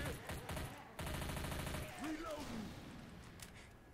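Rapid gunfire pops in bursts in Left 4 Dead 2 as players shoot at bowling pins, followed by a sweeping in-game tone, with voices chatting faintly underneath.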